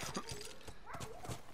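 Horse hooves clop in The Last of Us video game, a quick run of hoofbeats mixed with faint voice-like and whinny-like sounds under a busy in-game background.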